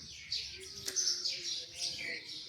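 House sparrows chirping in a village setting, busy overlapping tweets and twitters in quick bursts, fairly close, with one sharp click partway through.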